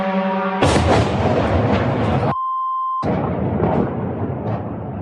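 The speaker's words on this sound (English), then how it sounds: "there were at least 9 explosions" Drone strikes in Russia's Oryol region set off loud booming explosions with rumbling aftermath, broken by a bleeped gap, the blasts heavy and reverberant as if recorded from a distance.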